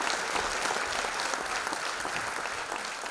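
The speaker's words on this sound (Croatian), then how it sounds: "Gromoglasnim aplauzom pozdravila je glumca" A theatre audience gives loud, sustained applause to the actor after a monodrama, a dense, even clapping from a full house with no voices standing out.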